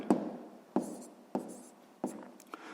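Pen or chalk writing out a math solution, with five distinct sharp tapping strokes spaced about every half second to second, close and fairly quiet, with no talking.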